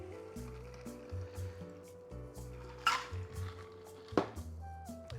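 A shaken rye and passionfruit cocktail is poured over fresh ice in a glass, a soft trickle of liquid with occasional ice clinks and a couple of louder knocks, close and quiet against a steady low hum.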